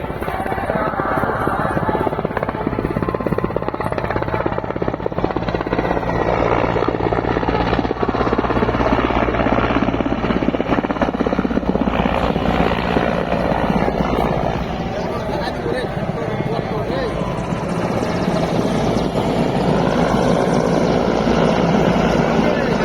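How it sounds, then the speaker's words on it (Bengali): A patrolling helicopter circles over a crowded temple area in Varanasi, its loud rotor chop and engine drone continuous and close, with people talking underneath throughout. "এখানে হেলিকপ্টার আছে, এখানে মনে করে যে ভেলাল আবার চক্কর মারছে সেফটির জন্য"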